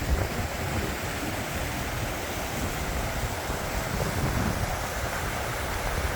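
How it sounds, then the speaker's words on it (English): Small dry creek running high with snowmelt during a spring thaw, a steady broadband rush of water close by, constant and loud, with some wind buffeting the microphone. "I think it's running a little more water now"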